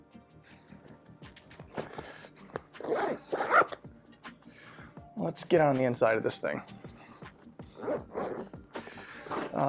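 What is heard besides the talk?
backpack zipper opening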